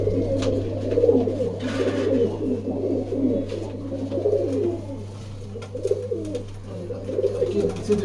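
Pigeons coo steadily and repeatedly at a racing pigeon loft in Bangalore, with layered overlapping calls close by over a constant low hum and a few faint background noises.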